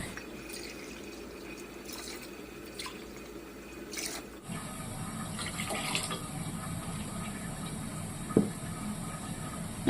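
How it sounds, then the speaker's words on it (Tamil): Water is poured into a pot of chicken dum biryani during cooking, a quiet trickling and dripping that turns into a fuller, steady flow partway through, heard close up and fairly faint. "இப்போ நம்ம இந்த பிரியாணிக்கு தேவையான தண்ணி சேர்க்க போகிறோம்"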